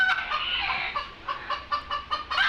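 Several desi hens cluck in quick, uneven bursts close by on a small poultry farm, a busy overlapping chatter with no talking.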